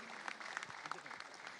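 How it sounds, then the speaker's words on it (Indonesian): Bursts of crowd clapping at an election peace declaration parade, fairly quiet and brief, with a few sharper claps standing out over a murmuring background and a voice mixed in. "Beri tepuk tangan dan semarak yang meriah Bapak Ibu."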